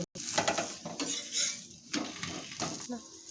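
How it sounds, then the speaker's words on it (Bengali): A chhana paratha frying in a hot pan with a little oil: a soft sizzle with spatula scrapes and light clinks of utensils against the pan, close by. "এরকম করে ভেজে নিব"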